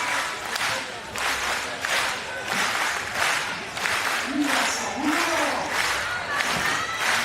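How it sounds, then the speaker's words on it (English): An arena crowd at the FIBA 3x3 World Cup final in Amsterdam claps and cheers steadily, with rhythmic clapping bursts and a sustained roar throughout. "Crowd getting into it."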